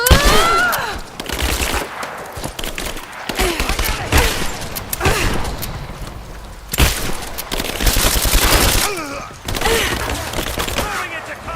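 Dense, sustained gunfire from the video game Rise of the Tomb Raider, with rapid automatic bursts and heavy booming shots in waves across the whole stretch, loud and close, mixed with shouted game voices.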